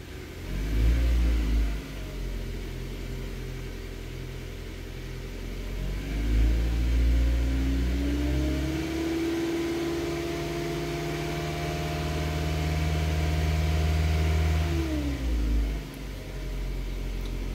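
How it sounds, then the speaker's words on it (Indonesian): A car engine revs up with a deep, rising rumble, holds high for several seconds, drops back, then revs again, loud and steady with no talk over it, while a car charger is being tested. "Nah, di sini saya gas ya."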